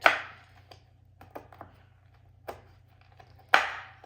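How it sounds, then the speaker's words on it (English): A knife chops pre-chopped almonds on a board in a few sharp, separate strikes spaced irregularly over a few seconds, close and clear with quiet pauses between; no talking. "This is already the pre-chopped, but we'll just chop it up a little bit"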